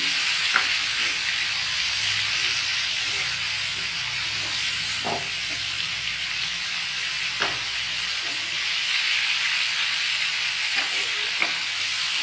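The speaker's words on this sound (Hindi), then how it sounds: "टमाटो प्यूरी हम लोगों ने डाल दिया दोस्तों। अभी इसको भी थोड़ा सा भूनना है।" Tomato puree for parwal dalna, an Assamese pointed gourd curry, sizzles steadily in a hot pan, with a few sharp scrapes and clinks as it is stirred, close and alone without talk.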